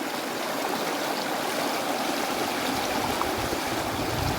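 Strong, fast river current rushing steadily and loudly close by, a continuous broadband roar of churning water with no voices.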